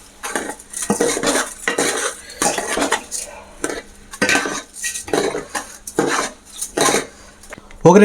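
A metal spoon stirs and scrapes rice with fried onion in a cooking pot, rhythmic clinks and scrapes repeating about every half second, close and loud, with no talking.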